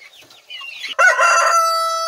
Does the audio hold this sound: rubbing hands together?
no